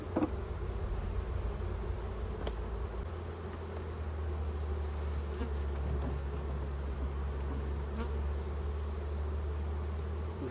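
Swarm of more than 20,000 honey bees buzzing inside a tree cavity, a dense continuous hum heard up close, loud and steady throughout, with a low rumble underneath.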